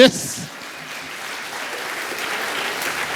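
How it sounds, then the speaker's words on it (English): Audience round of applause at a talk, starting after a brief sharp sound and building into a steady, moderately loud clatter of clapping that fills the rest of the moment. "Give Leanne a round of applause"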